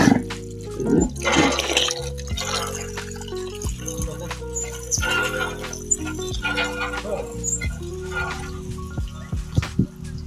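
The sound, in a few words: hand pump pumping water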